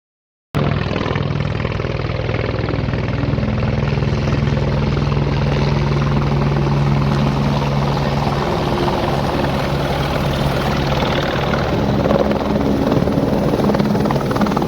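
A helicopter on a helipad roars loudly and steadily up close, with thick rotor thumping and engine whine continuing throughout.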